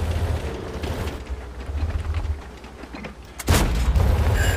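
A tank cannon fires in World of Tanks. A deep boom with a sharp crack lands near the end, over steady engine rumble and battle noise.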